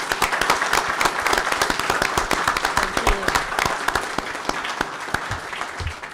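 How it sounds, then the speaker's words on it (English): Audience applause fills a city commission meeting, with dense, steady clapping from many people sustained throughout and a few stray voices in the room. "give them a round of applause."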